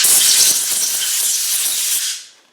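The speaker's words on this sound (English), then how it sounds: "with a bit of brake cleaner, I'm just going to clean up the bits and pieces" Brake cleaner sprayed from an aerosol can onto power steering pump parts from a Land Rover 300Tdi, one continuous loud, close hissing burst that cuts off sharply at the end.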